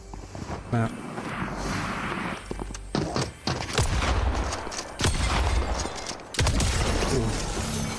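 Gunfire in Fortnite gameplay: bursts of shots crack repeatedly over a busy, loud soundscape, with dense clusters of reports and a heavier blast-like stretch near the end.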